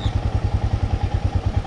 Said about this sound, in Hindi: नई बाइक?